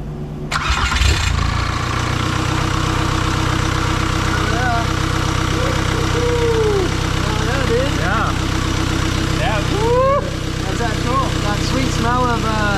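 A VW Vanagon converted to a Boxer TDI turbo diesel cranks briefly, catches and settles into a loud, steady diesel idle close by, while people talk over it with varying tones.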